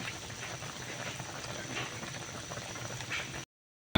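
Tamarind chicken feet soup boiling hard on a gas stove, a steady close bubbling and simmering that runs without a break before cutting off abruptly near the end.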